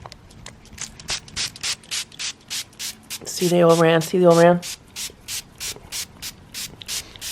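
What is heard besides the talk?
spraying vinegar from spray bottle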